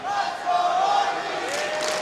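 Esports crowd of fans cheering at the ELEAGUE Major 2017 Counter-Strike quarter final, SK Gaming vs FaZe Clan, a distant sustained roar with rising whoops, heard without talk.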